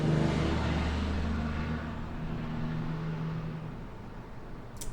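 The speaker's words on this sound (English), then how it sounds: "Can you guys hear the cars in the background" Cars pass outside an open window as a broad, muffled road rumble with a low engine drone. The sound fades gradually over the first few seconds.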